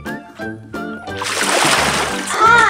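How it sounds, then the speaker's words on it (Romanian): A person jumps into a swimming pool with a single loud splash and churning water that follows. Excited voices come before it, with a playful tonal sound beneath. "Hai, Mircea, două trei și în apă!"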